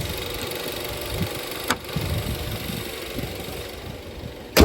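A 2011 Mazda CX-7 with the original 2.5L engine and over 350,000 miles idles steadily and smoothly, a close, even mechanical hum with a faint tick and a couple of brief knocks, no talking.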